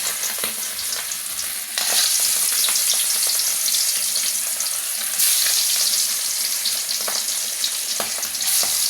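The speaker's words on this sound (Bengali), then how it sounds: "আমার তেলটাও গরম হয়ে গেছে, আমি মাছ একটা একটা করে ছেড়ে দিচ্ছি" Fish pieces go one by one into hot oil, setting off a loud, continuous sizzle that swells noticeably as more pieces are added, with no voices over the frying.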